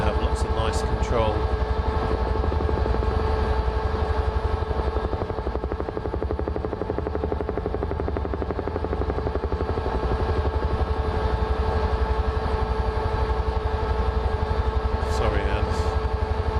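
A UH-1H Huey helicopter flies in Microsoft Flight Simulator over New Zealand valleys and peaks, its loud steady rotor thump and turbine drone filling the whole stretch without a break.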